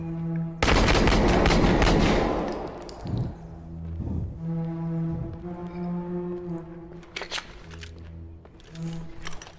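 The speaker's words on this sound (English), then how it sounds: "Shots fired!" A loud burst of gunshots from a Fast X movie trailer, with a booming, low horn-like drone and musical tones carrying on afterward, dense and close.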